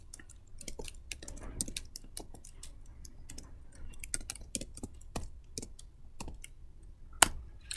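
Keys clatter as C code is typed on a computer keyboard, a quick, irregular run of close, crisp clicks and taps with short pauses and one sharper strike near the end, with no voices.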